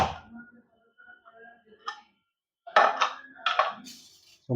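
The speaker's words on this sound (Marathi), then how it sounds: "आता आपण आपला कुकरचं झाकण उघडून घेऊ" A pressure cooker lid is opened after cooking jeera rice, with a few close metallic clinks and clatters in short bursts separated by brief silences.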